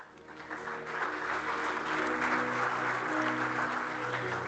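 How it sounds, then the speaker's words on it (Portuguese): An audience at a safety-meeting award ceremony applauds as a prize recipient is called to the stage, steady clapping that swells after a softer start and holds, with a faint murmur of voices. "peço os aplausos para ajudar aqui também nesta entrega"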